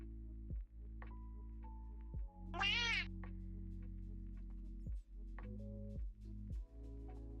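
A single meow sounds from a doorbell cat against a steady electronic hum, with pulsing throbs and a few small tonal blips around it.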